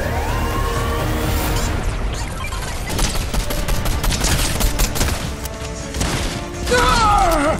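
Gunfire and battle effects in the video game Fortnite, including sniper rifle shots, heard as loud, dense bursts and cracks layered with electronic game noise and rising tones, continuous and close.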